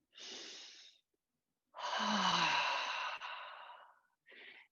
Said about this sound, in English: So we breathe in.